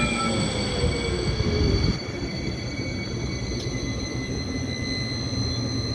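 A Blue Line light rail train in California runs past with a loud rumbling roll and high metallic wheel squeal, a sharp shift in tone after about two seconds, then a steady drone.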